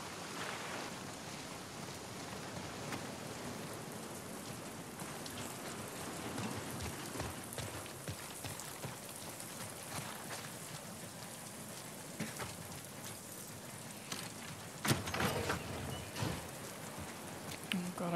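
Rain in the video game The Last of Us Part II, a constant dense patter of raindrops on surfaces with a few sharper splashes and thuds, with some faint voices under it.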